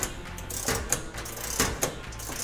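Metal fasteners on a Black Forest Gear security surround system being tightened down, giving a steady run of close mechanical ratcheting clicks with a few sharper snaps, and no voices.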